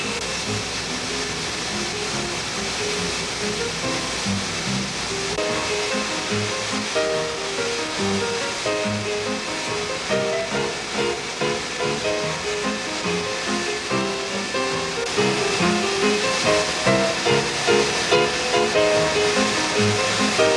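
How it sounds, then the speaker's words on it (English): Steam-heated dryer drums in the dryer section of the Bagley paper machine, making a dense, continuous hiss and rumble of machinery with a steady churning rhythm, loud throughout with no talk. "This is the paper in the dryer section, actually of the Bagley paper machine."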